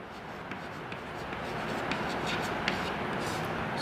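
A pen scratches across paper in continuous soft strokes, close and fairly quiet, with small taps and pauses between words and no talking.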